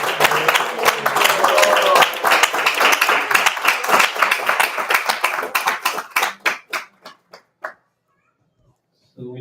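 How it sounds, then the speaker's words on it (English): Warm applause from a gathering honoring the host family of a devotional program, dense at first, then thinning to scattered individual claps that trail off into silence, with voices faintly beneath at the start. "Please give them a big round of applause."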